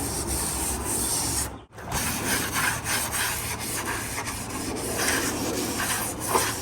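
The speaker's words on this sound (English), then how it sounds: "gonna go over it with this wet scrubber. Try to get all the black set off." A wet scrubber rubbed hard over burnt butcher block wood, producing a continuous close, gritty scouring in repeated strokes, with one brief pause partway through.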